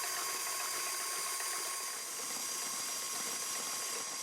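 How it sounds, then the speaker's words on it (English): A stand mixer beating cold whipping cream in its bowl, a steady loud whirring motor drone with a faint whine, unbroken throughout and without talk. "In a stand mixer bowl, add the cold whipping cream and beat that until it slightly thickens"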